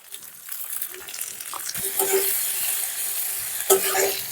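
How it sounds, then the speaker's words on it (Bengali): Mango pieces frying in oil sizzle steadily while a spatula scrapes and stirs them in the pan, with scrapes repeating intermittently over a moderate, ongoing crackle. "আমগুলো ভালোভাবে নেড়ে নিচ্ছি আমগুলো ভাজা ভাজা হয়ে গেছে"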